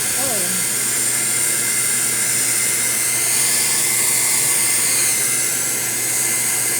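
Pet blower dryer drying a dog after its bath, a constant loud hissing roar with some low rumble, and a voice briefly audible over it at the start.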